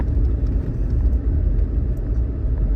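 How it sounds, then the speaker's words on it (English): A vehicle climbs a mountain trail with a sheer drop on one side, giving a steady low rumble of engine and road noise throughout with no voices. "And here is video of driving up the trail."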